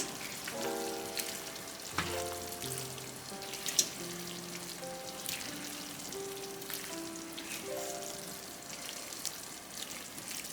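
Vegetables simmer and sizzle in a pan in a home kitchen while spaghetti squash is prepared, a soft, steady crackling hiss beneath background music with no talking.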